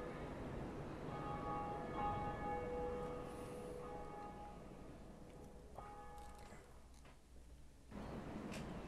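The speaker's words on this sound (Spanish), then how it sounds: "si han escuchado campanas mientras juegan, son otros jugadores tocando la campana" Bell tolling in the video game Dark Souls, faint ringing tones with a lingering metallic decay over low game ambience, struck a couple of times.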